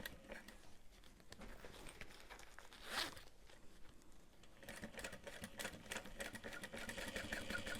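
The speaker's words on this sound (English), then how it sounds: "unzipped my zipper slightly" A zipper being worked on a backpack during sewing, a quiet close ripping zip with one sharper pull in the middle and busy rustling and clicking that grows later, with no talk.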